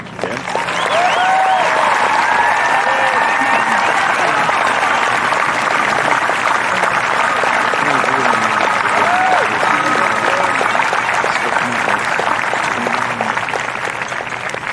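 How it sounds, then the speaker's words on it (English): Steady, dense applause from a large audience at a high school graduation ceremony fills the whole stretch, loud and sustained, with faint crowd voices mixed into the clapping. "give these young men and women a round of applause and appreciation for their service and commitment"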